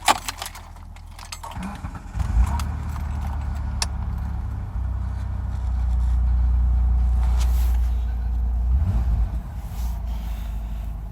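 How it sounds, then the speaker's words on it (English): An old, heavily rusted car cold-started on a cold day: keys jingle, then the starter cranks and the engine catches around two seconds in, settling into a loud, steady low idle that swells briefly mid-way. "Start it up again."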